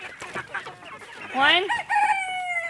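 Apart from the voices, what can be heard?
rooster crowing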